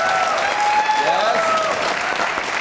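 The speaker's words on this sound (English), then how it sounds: "please, a round of applause for our guests tonight" An audience at a live show claps for its guests, with steady dense applause through the whole stretch and a brief voice speaking over it.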